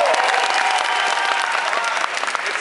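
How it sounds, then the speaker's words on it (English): An audience at a financial team rally event applauds, a loud, dense and sustained roar of many clapping hands with some crowd noise and faint cheers, continuing steadily without speech. "So give Nico a round of applause."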